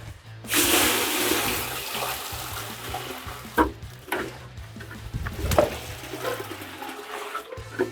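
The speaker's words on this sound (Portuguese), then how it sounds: "na sequência a gente vai colocar a água aqui direto na bitoneira" Water pours straight into a concrete mixer drum holding mortar for laying a wall, as a steady rushing gush with sloshing and a low machine hum underneath, then thinning to a trickle with a few knocks.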